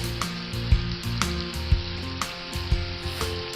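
Sliced mushrooms sizzle steadily in a hot pan, a close, continuous frying hiss broken by a few soft utensil knocks, with no talking.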